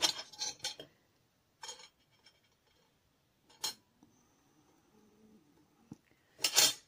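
Scissors snipping yarn after a crochet magic circle is pulled tight, a few quiet close metallic snips and clinks separated by pauses, with no talking.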